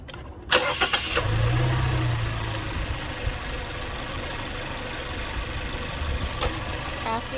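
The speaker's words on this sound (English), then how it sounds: "Then you can start your car." A car engine cranks briefly after a jump start with a POD Xtreme booster, catches, and settles into a steady idle that carries on at moderate loudness for several seconds, with no talking.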